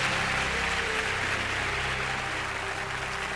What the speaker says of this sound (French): Antoine, applaudir très fort.